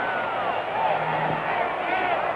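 A sellout Houston football crowd at the 1962 AFL Championship Game roars in a steady, dense wash of cheering and hubbub that holds throughout, with a voice talking over it.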